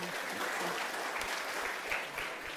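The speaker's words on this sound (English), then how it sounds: "Let's give her a round of applause." A church audience gives a round of applause after a Bible reading, dense, even clapping throughout with no voices over it.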